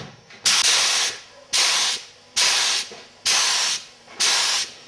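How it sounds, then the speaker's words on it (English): A spray gun hisses in five loud, even bursts of about a second each, with short quiet gaps between them, close up, spraying binder onto leather. "I'm using the same spray gun setting for every single coat on this piece"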